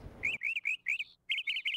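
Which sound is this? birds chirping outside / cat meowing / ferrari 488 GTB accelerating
birds chirping outside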